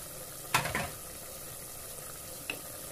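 Spices and ginger-garlic paste fry with minced keema for gawar phali keema, giving a faint, steady hiss broken by a couple of brief spoon knocks near the start and end.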